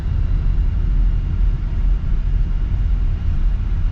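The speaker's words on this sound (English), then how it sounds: "it's the road noise that you get more of, like the tires and everything" Steady low rumble of tire and road noise inside a 2025 Subaru Forester while driving, continuous and fairly loud with no talking.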